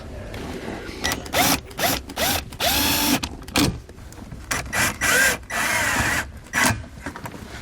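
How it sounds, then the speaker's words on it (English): A power drill drives a self-tapping screw while a compressor for an Air Lift Load Controller II air helper spring system is mounted, with several short whirring bursts that rise and fall in speed and have brief gaps between them. "Now we'll take our self-tapper"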